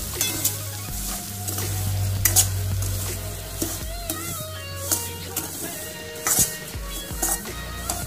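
Rava (semolina) fries in a pan as a spoon stirs it steadily, giving a close sizzle with repeated scraping strokes and occasional sharp clinks of metal against the pan.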